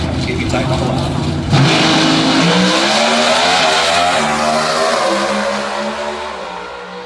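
A pair of Pro Stock drag racing cars, Dallas Glenn's Chevrolet among them, launch hard at New England Dragway in Epping, NHRA nationals, loud sustained engine roar rising in pitch then fading down the strip.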